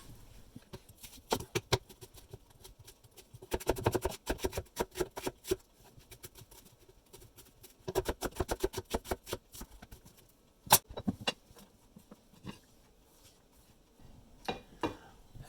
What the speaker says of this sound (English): I gotta cut up an onion